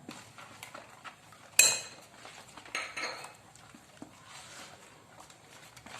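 Orange cake batter made with orange juice and grated orange zest is stirred in a bowl, with soft repeated scrapes and clinks of a utensil against the bowl, one sharper knock near the start, quiet and with no talking.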